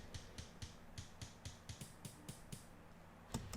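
Air-can and kick-attack noise presets layered in FL Studio, giving a rhythmic run of crisp clicks topped with short bright hiss bursts, evenly spaced and quiet, with no voices.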